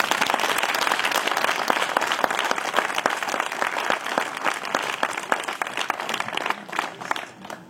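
Wedding guests at a September celebration applaud warmly with sustained, dense clapping from a room full of people, tapering slightly toward the end.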